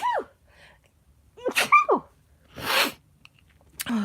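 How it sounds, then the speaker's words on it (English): A single sharp human sneeze from someone with allergies and sinus trouble, loud and close, preceded by a short gasping intake of breath and followed by a brief breathy exhale. "Give me just a sec, about to sneeze."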